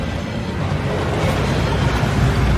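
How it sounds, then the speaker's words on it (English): A waterfall in Hogwarts Legacy, a dense, continuous broadband rush of falling water, loud and close, steady throughout with no talk over it. "That waterfall washes away all enchantments."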